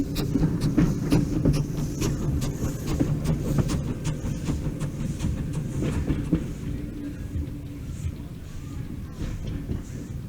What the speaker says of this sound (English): Here we see the train depart from Bandholm Station